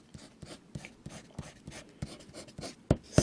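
A Pilot Plumix fountain pen with an italic nib scratches across paper in quick, regular strokes, close and quiet, each stroke a soft rasp in a steady writing rhythm.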